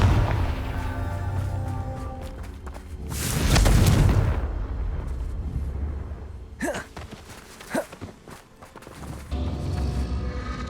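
A heavy spell blast in the video game Hogwarts Legacy, one big swelling explosion near the middle followed by a couple of sharper cracks, with a voice speaking around it.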